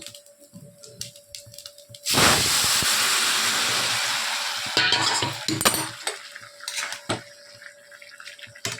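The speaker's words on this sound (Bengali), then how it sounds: "এই ফোড়নটার মধ্যে এবার আমি এই সেদ্ধ করা শাকটা ঢেলে দেব" Boiled pumpkin greens poured with their liquid into hot tempering for a fish-head chorchori, a loud rushing hiss and splash lasting a few seconds, followed by close spoon scrapes and clatter as the mixture is stirred.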